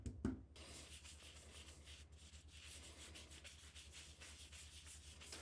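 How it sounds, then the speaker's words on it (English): Oil finish is rubbed by hand into a cherry wood mallet, a faint, steady soft rubbing and friction sound with a small knock at the start, close and quiet, no talking. "So I applied it to the mallet and worked the oil into all the surfaces."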